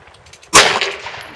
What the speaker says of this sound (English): You're still shooting high.